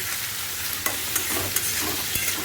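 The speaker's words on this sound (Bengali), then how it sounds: "প্রথমে এটা একটু ফ্রাই হোক" Vegetables fry in a hot pan with a steady, close sizzle, broken by a few brief clinks of a stirring spoon, and no voices.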